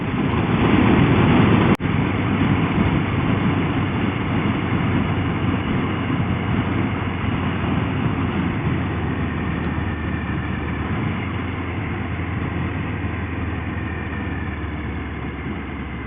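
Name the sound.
motorbike engine running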